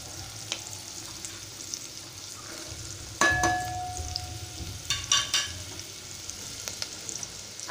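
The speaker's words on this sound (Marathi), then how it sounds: "आता दुसऱ्या ह्याच्यात कांदा घालत आहे।" Onions frying in a cooking pot for a Malvani chicken curry, giving a continuous low sizzle broken by a few clattering utensil knocks and stirring scrapes, close up with no one talking.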